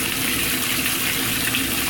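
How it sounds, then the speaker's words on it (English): Washing machine on a delicate cycle filling its tub with warm rinse water, a steady, loud, close gushing stream running unbroken throughout. "If you open up the lid, it will fill with warm water all the way."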